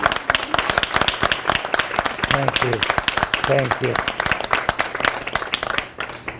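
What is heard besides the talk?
audience applauding a veteran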